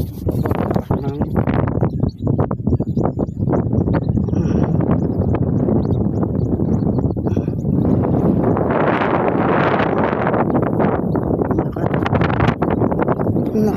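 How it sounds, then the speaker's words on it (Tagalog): Very strong wind by the sea buffets the microphone in continuous loud roaring gusts, with someone talking intermittently over it. "Napakalakas ng hangin"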